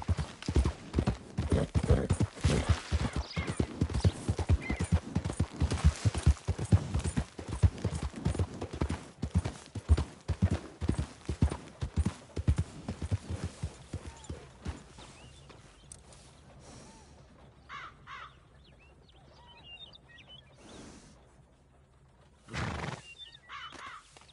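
Horse hooves clip-clop in a fast, rhythmic galloping pattern in Red Dead Redemption 2, loud and close for about fifteen seconds before slowing and fading, with a brief burst of sound near the end.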